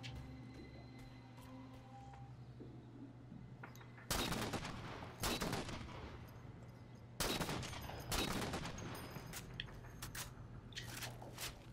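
Bursts of railgun and rapid gunfire in Halo: Master Chief Collection, loud sharp volleys arriving in clusters after a quieter stretch, with some distant shots in between.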